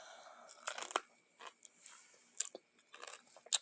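Close, crisp crunching and biting on raw vegetables in a quiet room, in irregular bursts of chewing with brief pauses between bites.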